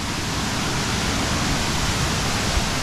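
Waterfall in New England, heard from the ground nearby as a dense, continuous roar of rushing water that fills the whole clip.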